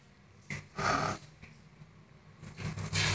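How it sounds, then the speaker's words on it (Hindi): Grated bottle gourd is squeezed by hand to press out its water, giving a few short, wet squelching bursts separated by quiet gaps, close and fairly soft, with no talk. "अब हम इसे दबाकर इसका एक्स्ट्रा पानी निकाल लेंगे।"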